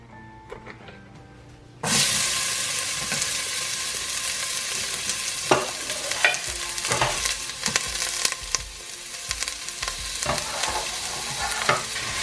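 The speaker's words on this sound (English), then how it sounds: "now I'm going to move this onion with a little bit of oil into my pan." Onion with a little oil starts frying in a pan over low heat, a steady sizzle suddenly filling the quiet, with occasional stirring clatters over the hiss.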